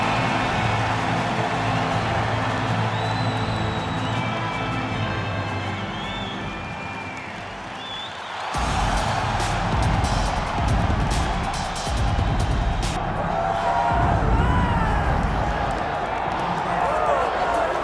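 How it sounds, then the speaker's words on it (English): A crowd in a UFC fight video game, heard as a steady arena roar that swells louder partway through, with commentary talking over it. "So you can sort of feel an uptick in terms of the crowd energy."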